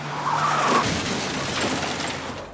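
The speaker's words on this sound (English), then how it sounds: "he chased Luke Britton in a car" Tires screech loudly in a long skid as a car engine roars nearby during a car chase in Coronation Street, close and intense, with no voices.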